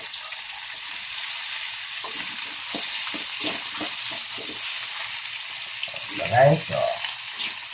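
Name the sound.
pork meat frying in a pan for kaldereta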